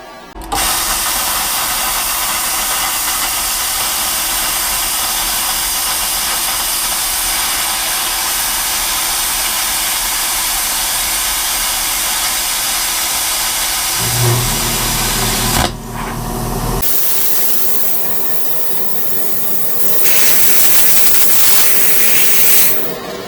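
FLARING 55-amp IGBT inverter plasma cutter slicing 1/4-inch plate steel: a loud, continuous hissing roar for about fifteen seconds, a brief break with a cut-off, then rougher hissing air flow resuming.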